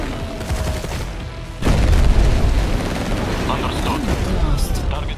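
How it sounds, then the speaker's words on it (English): Dense gunfire and explosions from the strategy game Tempest Rising build into a loud, continuous rumble of battle with heavy booms and a thick wash of shots. Game voice lines sound over the top. "Open fire."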